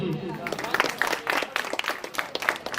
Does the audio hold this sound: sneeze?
no